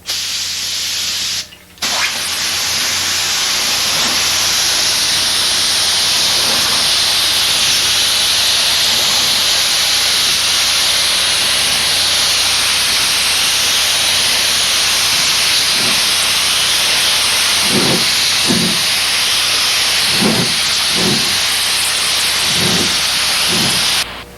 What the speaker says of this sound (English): spray on a third real wet coat